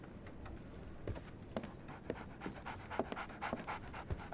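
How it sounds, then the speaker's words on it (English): A dog pants close by in quick, rhythmic breaths, with soft scuffling and small knocks around it and no voices. "So, Barnes has a dog now."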